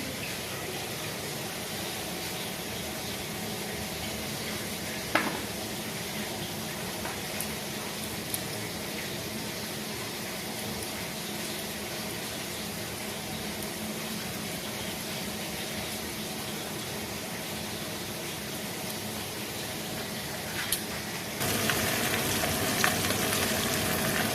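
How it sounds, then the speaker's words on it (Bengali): Catla fish frying in a pan gives a continuous soft sizzle, faint and steady throughout, with a few small clicks and a slight rise in hiss near the end. "মাছটা ভাজা হতে থাক"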